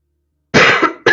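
A person coughs hard and close up in a quick burst, a short break, then a second cough, with nothing else around it.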